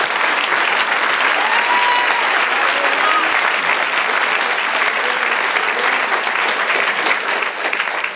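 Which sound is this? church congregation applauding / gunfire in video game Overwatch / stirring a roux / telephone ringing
church congregation applauding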